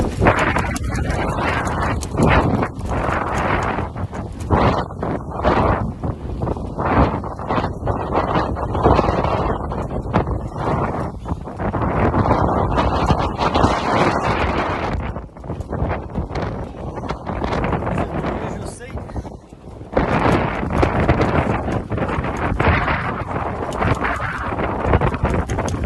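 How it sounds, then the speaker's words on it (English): Strong wind at sea aboard a 30ft sailboat crossing Bass Strait in big seas, loud gusting roar and buffeting against the microphone throughout, surging and easing briefly in places. "Listen to a bit of wind."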